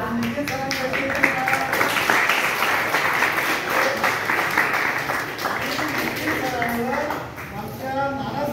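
Audience clapping at a ceremony in Maharashtra, sustained applause of many hands running for several seconds, with a voice speaking over it near the start and end.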